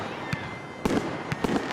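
Fireworks exploding around Bonfire Night in Dundee, Scotland: four or five sharp bangs at irregular intervals over steady background rumble, fairly loud and close, with no talk.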